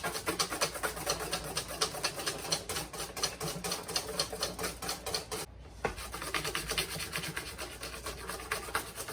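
Cream being whisked by hand in a bowl until stiff and pipeable: a steady, fast scraping and rasping of the whisk against the bowl, continuous and close, with a brief pause midway.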